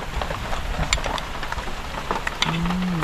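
Heavy rain pours steadily in a rural Thai village, a dense hiss of drops on the ground and surfaces, with a low engine hum rising near the end.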